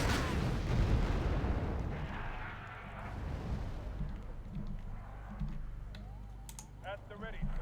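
T-55 tanks explode in the video game Wargame: AirLand Battle, a heavy rumbling blast that fades into crackling, distant booms while someone talks over it.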